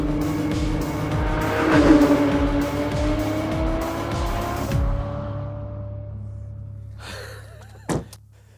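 A Porsche Cayman GT4 RS engine howls at speed on a race track, its pitch climbing and shifting through the run before the sound drops away, followed by a brief sharp burst near the end.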